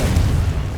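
A short, heavy boom from a Confringo fire spell in Hogwarts Legacy, deep and loud, rolling steadily for under a second with no voices over it.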